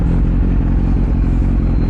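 Motorcycle fitted with an SC Project aftermarket exhaust, idling or running steadily close by with a deep, continuous rumble throughout, no pauses or talk.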